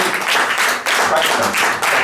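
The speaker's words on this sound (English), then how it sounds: "Can we have an round of applause for Gav?" A comedy festival audience gives a round of applause, a dense wash of clapping that swells in steady pulses for a couple of seconds with no talk.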